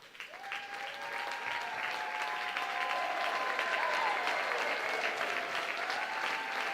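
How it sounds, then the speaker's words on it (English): A crowd applauds steadily at a high school basketball game as a football state championship banner is unveiled in the gym, the clapping continuous and sustained throughout with a faint tonal whistle over it. "please join in giving a big round of applause as they unveil your championship banner."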